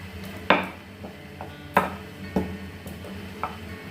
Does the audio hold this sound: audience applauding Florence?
no